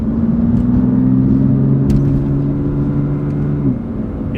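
A stock BMW M4 GTS engine hums at a steady low idle, a loud close droning rumble with a faint rise near the end, no voices over it.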